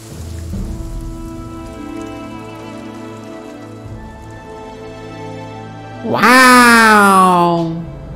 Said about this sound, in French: Il pleut dans le désert de sel!